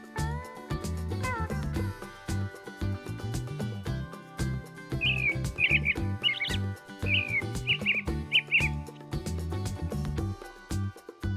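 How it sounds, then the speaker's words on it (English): A robin sings short bright chirping phrases, clear but moderate, over a steady bed of background music with no voices. "Robin."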